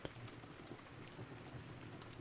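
Steady, soothing rain falls around a cozy cottage, a soft, even wash of drops heard alone at low level with no voices.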